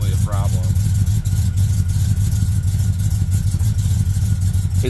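A truck engine runs steadily at a low idle with a faint rhythmic knock from a faulty spark plug, while people talk over it.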